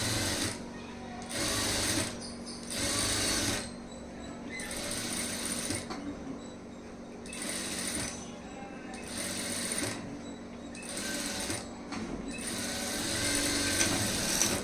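A sewing machine stitches a seam along canvas on a high neck blouse, running in repeated bursts of rapid, rattling mechanical stitching separated by short pauses, close and clear.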